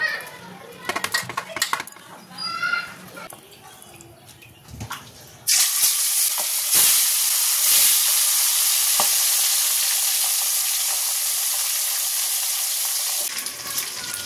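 A kadai of hot oil used for frying fish, potatoes and cauliflower in gram-flour batter bursts into a loud, steady sizzle that runs on without a break, after a stretch of children chattering and playing.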